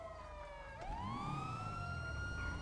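A police car siren in a video game wails loudly, its pitch sweeping upward and holding steady, alone with no talking.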